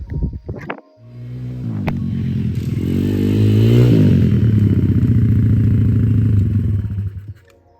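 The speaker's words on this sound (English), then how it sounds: "ignore the motorbike noise and also a plane going over" A motorbike engine starts up nearby by a forest in France and revs into a loud, steady rumble that rises and falls before cutting off abruptly.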